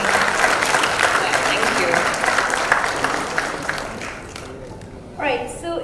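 Audience applause for an actress at a panel discussion and award ceremony, a steady wash of many hands clapping that fades toward the end as a voice speaks briefly over it.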